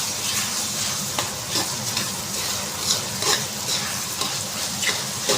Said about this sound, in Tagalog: Inigisa na natin yung ingredients ng spaghetti natin.